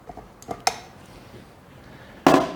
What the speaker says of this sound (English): I'm gonna take my bar off of here, my beater bar